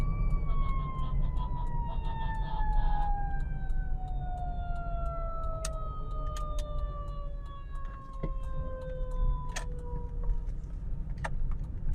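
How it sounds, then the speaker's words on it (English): An emergency vehicle siren wails from a distance, its falling tones sweeping steadily and fading as it passes behind low background rumble. "there's an emergency vehicle."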